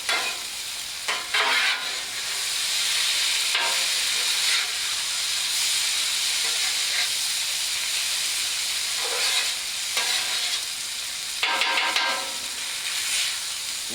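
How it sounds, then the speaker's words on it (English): Hash browns fry in melted butter on a Blackstone 28-inch griddle, giving off a loud, continuous sizzle and hiss, with occasional scraping and stirring sounds breaking through the steady crackle. "We want those potatoes to soak that up a little bit so that they'll fry properly and they won't stick."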